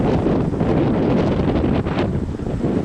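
Heavy wind buffeting the microphone, a constant loud low rumble and roar that never lets up.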